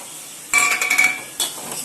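A spoon stirs ground pepper, cumin and garlic into rasam in a pan, with two bursts of scraping and light sizzling clatter against the metal, close and fairly loud over a quiet background.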